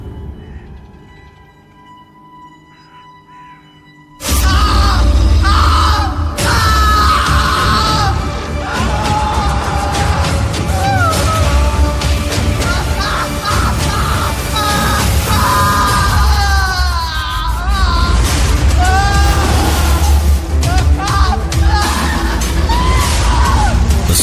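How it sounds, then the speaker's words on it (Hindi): Screams from a Hindi horror story about a car accident burst in loudly after a few seconds of quiet low sound. Anguished yelling and shrieking then continue, wavering and rising over a dense, noisy background. "पूरे माहौल में बस कौशिक की चीखें गूंज रही थी।"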